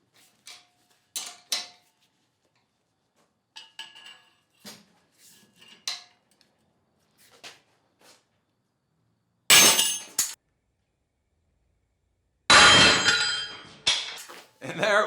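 A half-inch Pittsburgh wrench is strained to breaking: two loud, harsh bursts of metallic stress and snapping, the second longer and ending abruptly, after scattered quieter clinks and clanks of the tool being set up.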